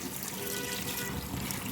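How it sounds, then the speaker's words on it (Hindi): A kitchen tap runs steadily as chicken is being cleaned for biryani, a continuous broadband hiss of water splashing into a sink, moderately loud and uninterrupted with no voices. "पानी ज़रा खोलना अम्मी।"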